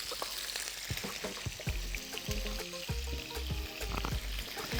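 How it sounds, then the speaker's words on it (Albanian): Salted octopus sizzles and spits in a hot pan in a steady close-up fry, with scraping utensil strokes and soft splashy bursts rising through the crackle. "Edhe fillojna deri sa të skuqen pak, jo edhe shumë."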